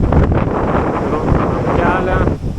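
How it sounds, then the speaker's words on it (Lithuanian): Strong wind buffets the microphone during a full-throttle ride on an E-twow Booster V electric city scooter, a loud continuous roar with a rider's voice partly buried beneath it. "Pilni gazai, įsivaizduokit, kokio dydžio vėjas."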